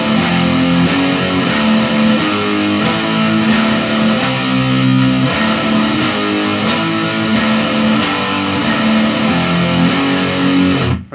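Distorted electric guitar playing a riff, a steady loud chugging pattern with repeated sharp accents throughout, alone with no voices.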